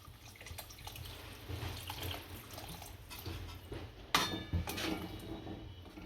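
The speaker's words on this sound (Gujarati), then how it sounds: "હવે આમાં પાણી નાખશું" Water poured into a pan of bitter gourd curry, a faint trickle and splash, then a sharp metallic clink of a utensil against the pot near the end.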